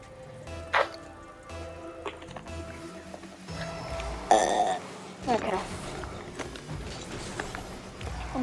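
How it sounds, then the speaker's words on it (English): Several burps after a meal come out as short, abrupt bursts scattered among ongoing conversation, with a couple of louder belches standing out. "I'm getting the food burps."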